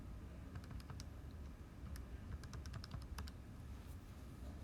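Faint, irregular clicks come from keys pressed on a graphing calculator, arriving in small bursts over a quiet hum with no talking.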